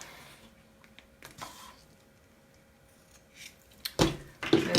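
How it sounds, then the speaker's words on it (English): Scissors snip the paper ends of a handmade gift box, with a few quiet cuts early on and then sharper, louder snips close by near the end. "Let's trim those ends."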